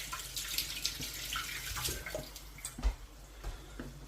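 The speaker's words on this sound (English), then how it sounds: "Pick up the green beans a minute. I'll give them a wash." Tap water running steadily over green beans being washed in a sink, with light splashing and occasional drips and knocks against the basin throughout.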